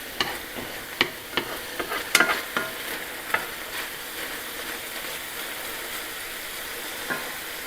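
Chopped bacon and stew beef searing in a pan, a constant soft sizzle with scattered sharp pops and a few utensil scrapes clustered early on, close-up and moderately loud with no voices.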